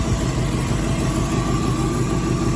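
A 1962 Chevrolet Impala with a new carburetor, HEI distributor and new spark plugs idles on a cold morning, giving a steady, loud low rumble that holds even throughout, with no voices.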